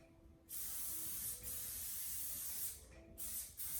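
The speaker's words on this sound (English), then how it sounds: "Spray the leaves with green glow." Several hissing bursts from a spray bottle, close by, with a long continuous spray followed by shorter puffs.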